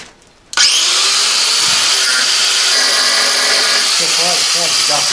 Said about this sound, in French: Coupe un morceau de ce tuyau, s'il te plaît.